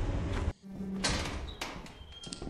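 Door opening in the video game Lethal Company, a heavy mechanical sliding clank followed by a hissing, whooshing movement and a second thud, loud and close, with a brief voice at the start.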